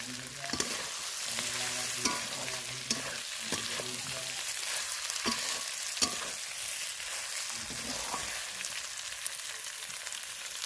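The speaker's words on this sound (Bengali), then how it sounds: "ঢাকা দিয়ে দিয়ে আমি পুরো মাংসটা একদম কষিয়ে নেব" Meat sizzles in oil in a pan while being fried down for a spiced meat curry, a soft but continuous hiss with repeated scraping stir strokes and the odd clink, and no voices.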